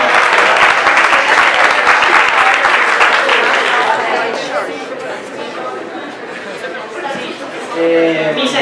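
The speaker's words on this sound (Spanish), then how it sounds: "Un aplauso." An audience claps loudly and steadily in a classroom-style talk on genetically modified foods, the applause thinning toward the end as voices and chatter come through beneath it.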